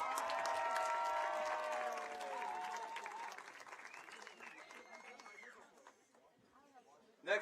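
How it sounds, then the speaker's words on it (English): Spectators at a girls' high school soccer game between Ellenville and Pine Plains clap and cheer for a player being introduced. The clapping is distant and mixed with whistle-like tones, fading toward the end before a final burst. "Everybody give a round of applause for Chucky."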